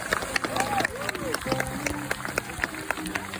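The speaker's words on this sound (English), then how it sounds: "Give him a big round of applause." Audience applause and crowd noise at a sea lion show at a zoo park, steady clapping across the stretch with a voice speaking over it.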